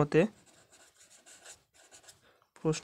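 Writing on a board or paper during a physics problem lesson: faint, scratchy strokes come in short runs, with brief bursts of talk at the start and end.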